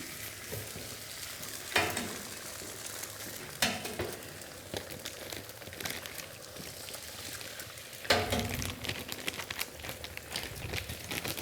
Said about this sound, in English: I'm just gonna throw a couple eggs down, and also warm up the ham that he sent too